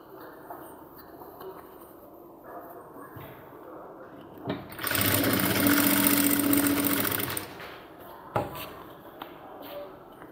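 A sewing machine stitches a seam on a cargo half pant, one loud continuous whirring burst lasting a few seconds, with quiet handling clunks of the fabric before and after.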